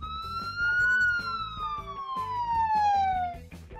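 A cartoon ambulance siren wails in two long descending tones over a bouncy children's music backing, loud and close.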